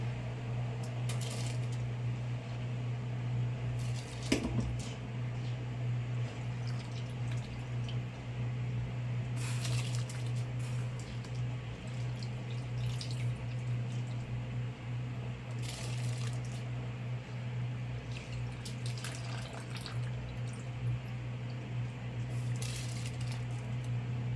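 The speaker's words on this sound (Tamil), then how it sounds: "நல்லா கொதி ஆரம்பிச்சிச்சு இப்போ வந்து நம்ம கள்ளி பிடிச்சி வச்சுருக்க அரிசியை சேர்த்துடலாம்" Rice goes into boiling water in a cooking pot: a steady low bubbling hum runs throughout, broken by occasional drips, small splashes and a sharper plop near the start.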